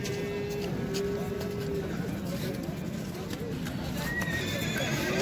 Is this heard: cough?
no